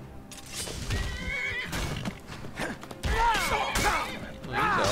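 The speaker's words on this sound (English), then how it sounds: "Better try not to hit the horse" A horse in a video game whinnies and neighs repeatedly amid clip-clopping and thuds, loud and close, with some voice mixed in.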